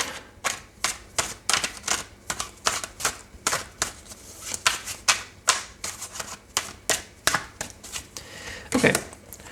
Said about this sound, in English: I'm just going to do a bit more of a shuffle here.